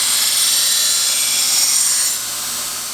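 Belt grinder grinding a multi-bar twist-pattern Damascus blade: a loud, continuous high-pitched abrasive hiss held steady for a few seconds, then tapering slightly as pressure eases.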